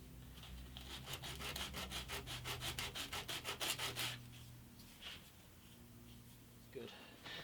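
Sandpaper rubbing across veneer on the front of an antique parlour guitar, a rapid run of even back-and-forth strokes that stops, followed by a few faint scrapes over low background hum.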